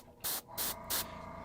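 An airbrush sprays Magnolia Brown paint onto a miniature figure in three short hissing bursts, each about a fifth of a second long, close and crisp against a quiet room tone.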